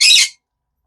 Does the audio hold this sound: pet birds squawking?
yes